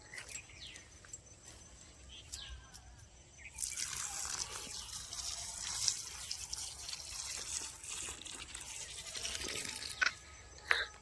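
Water pours from a pipe onto small okra plants in a village garden, a near, hissing splash that starts after a quiet stretch with faint scattered sounds and continues steadily with occasional louder spatters.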